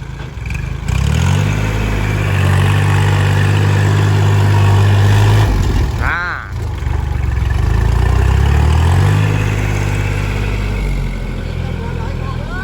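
A farm tractor stuck in rainy-season mud idles with a steady low engine rumble, briefly rising and changing pitch midway, heard up close with voices around it.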